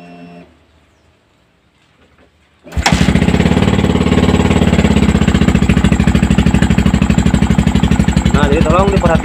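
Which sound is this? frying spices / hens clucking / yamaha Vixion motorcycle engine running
yamaha Vixion motorcycle engine running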